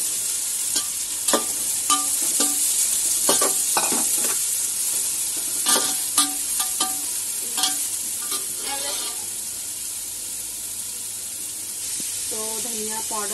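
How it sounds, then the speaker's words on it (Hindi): Chopped onions frying in hot oil for biryani, a bright continuous sizzle with frequent stirring scrapes and clinks, a few quieter tonal clinks near the end. "प्याज एकदम अच्छे से फ्राई होना चाहिए"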